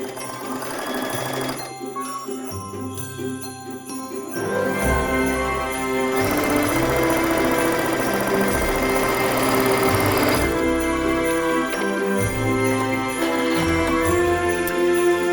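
A sewing machine stitches patchwork stocking strips in several close, rhythmic bursts, stopping and restarting between runs, with a faint tonal background throughout.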